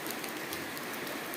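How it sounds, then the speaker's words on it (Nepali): Steady rain falls at a garden site where interlock blocks are being laid, an even broadband hiss with no breaks, close and continuous with no voices. "पानी पर्यो"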